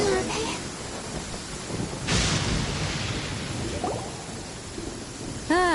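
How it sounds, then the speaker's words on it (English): Steady heavy rain hisses through a video game scene, a dense wash of downpour with a brief louder surge partway through and small chiming effects near the end. "It's pouring out here!"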